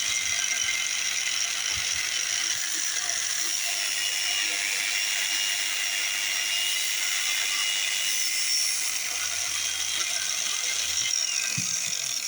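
A kitchen knife drawn repeatedly across a hand sharpener, giving a steady, close, high-pitched grinding hiss that runs continuously with faint mechanical rattles underneath and no talk.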